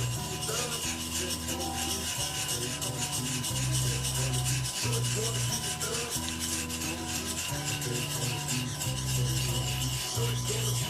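A Thiers Issard 5/8 round straight razor is honed in circles on a sharpening stone, giving a steady, close rhythmic rasping with repeated strokes of about a second each, quiet and without talk.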